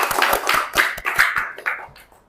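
Classroom audience clapping together in Indonesia, a close burst of sharp hand claps in quick rhythm that fades out over a couple of seconds, with no talk over it.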